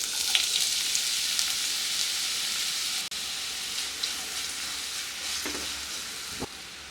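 Finely chopped medium-size onion sizzling in hot oil in a pan, a loud, steady, close frying hiss with a brief dip and occasional stirring scrapes, no talk.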